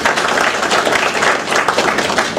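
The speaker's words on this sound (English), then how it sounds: "I ask you to join me in a round of applause" An audience at a policy talk on the Middle East and America's role gives a dense, sustained round of applause, many hands clapping close and loud without pause.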